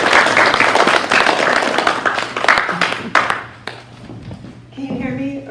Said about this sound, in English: So I just want everyone to give you a big round of applause.